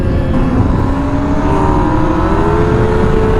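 Sport motorcycles, a 1000cc and a GSXR 600, accelerate hard through the gears at speed, giving a loud, continuous engine roar with rising tones that climb and shift as each bike pulls through third gear, steady and close throughout.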